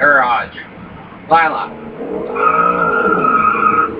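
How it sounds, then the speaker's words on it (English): Drag car burnout in the IHRA Drag Racing 2 video game: revving engine tones rise and fall, then a steady, loud tire squeal holds through the second half. "sometimes when you're doing your burnout, it does not want to stay"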